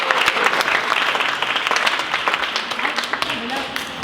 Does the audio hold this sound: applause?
yes